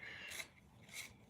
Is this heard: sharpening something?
yes